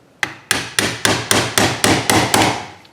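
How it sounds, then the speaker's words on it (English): Nine sharp metal-on-metal hammer blows strike a brass drift, tightening an adjustable BC Racing rear coilover on a 2010-2015 fifth-generation Camaro, evenly spaced and loud, each ringing briefly. "I'm just going to tighten it down with the brass drift."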